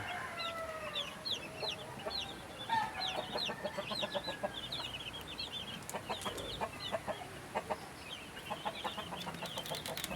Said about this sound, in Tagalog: yung isang inahin nila